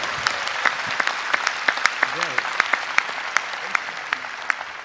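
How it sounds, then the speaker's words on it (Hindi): Steady audience applause at a Hindi poetry recital (kavi sammelan) fills the clip, dense clapping with sharper individual claps standing out, and a brief voice rising faintly underneath. "आइए एक बार जरा जोरदार तालियां बजा के।"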